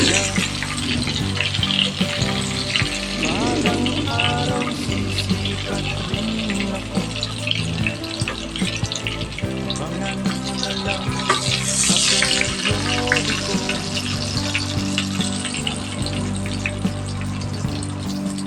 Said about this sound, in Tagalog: tamang tama po yung pagkakaprito sa ating tortang talong